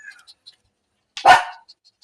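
A single sharp dog bark, close and loud, in an otherwise quiet moment with faint clicks around it.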